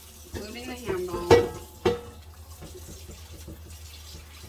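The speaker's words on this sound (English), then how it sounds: "I always wash the whole pan to get it nice and clean, including the handle" A cast iron pan being washed at a sink, with running water, soft scrubbing and a couple of sharp knocks of the pan, close up, while someone speaks briefly near the start.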